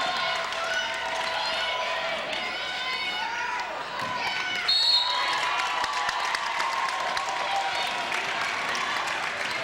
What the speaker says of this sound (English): The whole team on the bench is up cheering